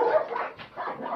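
A guard dog responding to a guard command, giving a continuous near growling whine with a brief dip in the middle, loud and close, with no talk over it.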